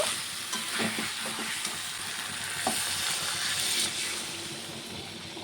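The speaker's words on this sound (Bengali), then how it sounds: "এখন আমি জল দিয়ে দেব" Water is poured into a pan of potatoes and spices cooking for a katla fish head curry, giving a bright, steady sizzle with a few sharp clinks and scrapes, close and alone.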